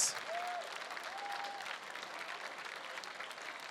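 An audience at a mountaineering gala auction claps for the $500 donors, producing steady, dense applause that holds at an even level for several seconds, with a few voices faintly heard in the crowd.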